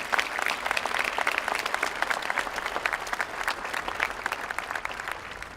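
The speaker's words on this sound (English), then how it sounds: "Let's have another round of applause for Veronica Radke." Audience at a high school graduation ceremony applauding, a dense steady clapping from a large crowd that carries on throughout without voices over it.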